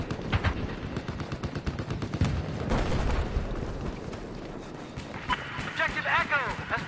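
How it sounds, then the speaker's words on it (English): Rapid gunfire in a Battlefield 4 match, bursts of shots crackling through the mix alongside other game noise while a player talks over it. "Stop shooting me!"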